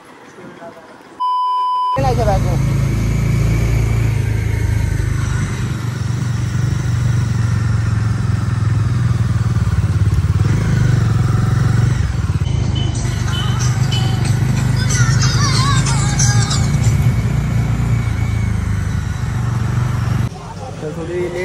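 Motorcycle engines rumble steadily, with repeated horn beeps and people talking over the traffic noise of a moving group of bikes in a Bhim Jayanti bike rally in Airoli.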